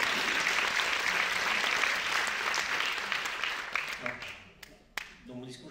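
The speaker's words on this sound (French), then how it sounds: "Mérite un petit applaudissement." An audience at a ceremony honouring a citizen applauds, a dense round of clapping that holds steady, then thins into scattered claps and tapers off near the end.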